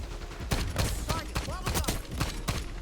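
Tsarkov 7.62 gunfire in Black Ops 6, a rapid string of sharp, loud shots in uneven bursts with the odd metallic ping, up close and with no talk over it.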